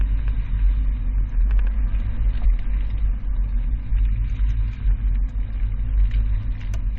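A Jeep Cherokee carrying a bike rack weaves through a slalom course, its engine giving a steady low rumble with faint rattles and knocks on top, close and even throughout, with no voices.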